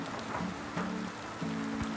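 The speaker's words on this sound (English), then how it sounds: "You can see the standing rain out there." Steady rain falls around a trail shelter on the Appalachian Trail, a continuous soft patter that stays even and close with no talk over it.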